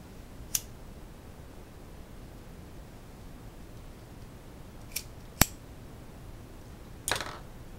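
Three or four crisp, isolated scissor snips trim the ribbon tails of a bow on a handmade card, spaced seconds apart over a quiet background.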